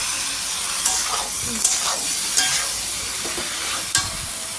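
Beans and potatoes are stir-fried into a thick masala, giving a dense, close sizzle and hiss with periodic scraping stirs and sharp clinks of the spatula.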